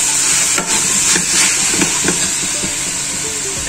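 Fenugreek leaves fry with garlic, ginger and onion in a pan, a steady loud hiss of sizzling oil with irregular soft stirring scrapes throughout.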